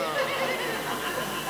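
A crowd of people at a kirtan imitates a goat's bleat with voices, and the sustained, wavering group cry stays loud and dense throughout.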